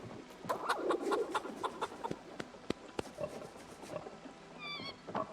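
A rooster in the video game Project Zomboid clucks in short, scattered bursts among sharp clicks and soft farmyard noises, fairly faint and without speech.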